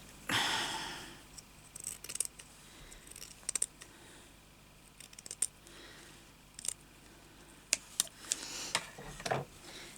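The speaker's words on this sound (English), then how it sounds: "I'm going to cut that off straight so I can do this properly." Scissors snip through fabric while a slow stitching project is prepared, a loud opening cut followed by a string of sharp, quiet clicks and snips at an irregular pace, close by with no talk.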